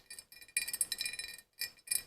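Thick ribbed glassware clinks and chinks in quick bursts, bright light knocks close by with a short gap before a few final taps.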